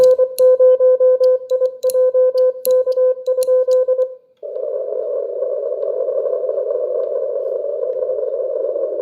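Morse code sent over amateur radio, a rapid pattern of short and long beeping tones, loud and close, followed by a steady hissing tone with crackle and no speech.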